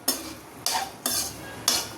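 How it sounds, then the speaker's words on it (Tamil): A utensil stirs onions and fresh curry leaves frying in a pan for Chettinad egg curry, in four distinct scraping sweeps over a soft sizzle, close up, with no talking. "நல்லா மிக்ஸ் பண்ணிக்கலாம்."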